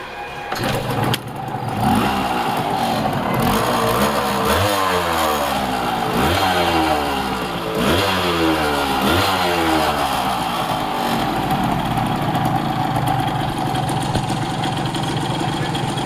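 A Yamaha 100cc motorcycle engine idling close by, with a few revs rising and falling in repeated sweeps before settling back to a steady idle.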